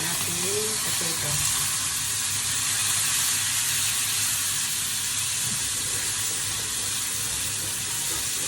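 Potatoes frying in a pan for curry, giving off a steady, even sizzle that runs unbroken and moderately loud, with no talking over it.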